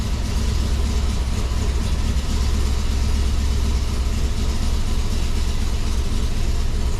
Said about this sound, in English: Still misfiring on those cylinders